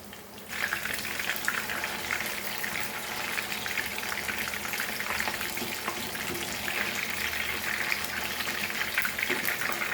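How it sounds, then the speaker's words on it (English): Spiced prawn tempura deep frying in hot oil, a steady dense crackling sizzle that runs continuously at close range from the first second onward. "fry this crispy golden brown."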